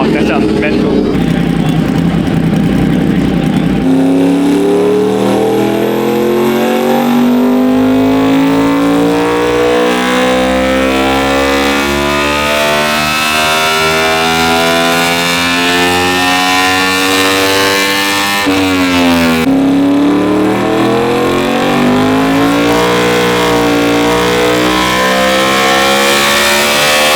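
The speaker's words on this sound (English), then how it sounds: "at the moment we got a R1M inside the dyno room." A Yamaha R1M superbike revs hard on a dyno in an enclosed dyno room, loud and continuous with rising and falling engine pitch and a sharp drop and re-climb partway through.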